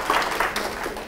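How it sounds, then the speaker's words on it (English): Audience applause in a lecture hall during a math and science teaching talk, a steady burst of clapping from many hands lasting about a second, moderately loud throughout. "Give a round of applause for that."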